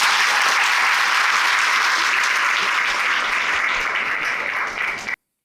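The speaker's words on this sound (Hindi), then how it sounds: "तालियां बजनी चाहिए।" An audience gives a warm welcome of loud, dense clapping at a Hindi-medium UPSC topper's event. The applause is sustained and even for about five seconds, then cuts off abruptly.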